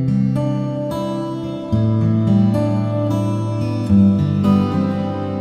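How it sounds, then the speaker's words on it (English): Acoustic guitar strums a chord progression through a reverb plugin, the chords blurring into a continuous washed sustain with no gaps between changes and no voices. "Okay, now let's switch it on and hear it with the reverb."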